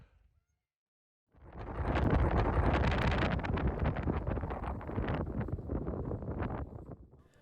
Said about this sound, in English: As the wind picks up, we're blasted with sand